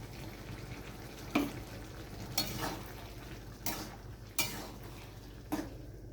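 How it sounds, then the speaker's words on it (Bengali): A spatula stirs poppy seed paste and green chillies into partly boiled potatoes in a pan, giving five soft scraping strokes spaced about a second apart over a steady low background hum. "পোস্ত কাঁচা লঙ্কা দিয়ে আবার একটু খুন্তি দিয়ে আমি নাড়াচাড়া করে নিলাম।"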